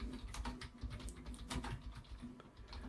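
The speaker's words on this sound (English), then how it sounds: "you might be hearing the typing noise. It's because of the keyboard." Fingers tap rapidly on a computer keyboard in quick, uneven bursts of clicking keystrokes, close by and alone, quiet overall.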